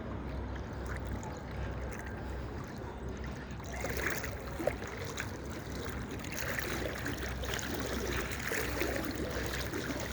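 Rainwater floods a street in Nasiriya, Sharjah, near a Carrefour, making a steady broadband wash of water. A faint sloshing runs through it and a louder splash comes mid-way, with no speech over it.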